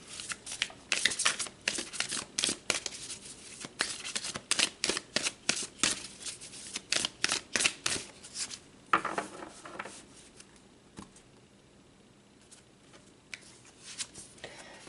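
Tarot deck being shuffled by hand at close range, a rapid series of crisp riffling and slapping bursts in an uneven rhythm that thins out into quieter rustles and a few soft taps near the end.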